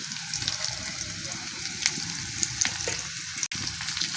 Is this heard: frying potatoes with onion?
yes